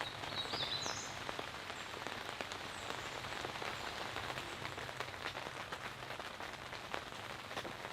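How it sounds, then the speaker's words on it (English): Light rain shower pattering steadily on the fabric of a very large camping tent, a dense continuous patter of close drops with no voices. "This little rain shower, it doesn't count."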